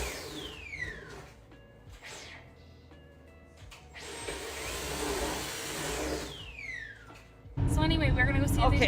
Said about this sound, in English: it keeps like malfunctioning. Like it just keeps stopping and going.